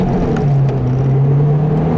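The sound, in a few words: 2012 Mazdaspeed3 accelerating in first gear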